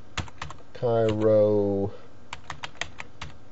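Quick bursts of computer keyboard typing, close and crisp, with clicks clustered at the start and again near the end and a brief spoken word in between.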